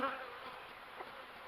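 Honey bees buzz at a beehive in spring, a soft, continuous hum of many insects with no talk over it.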